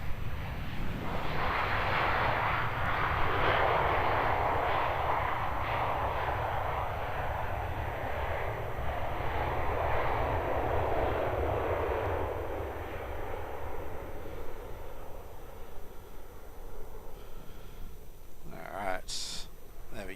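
A Qantas airliner lands at Melbourne Airport with a broad, steady roar of jet engines that slowly fades over about twenty seconds. A short, sharp chirp comes near the end, with voices faintly underneath.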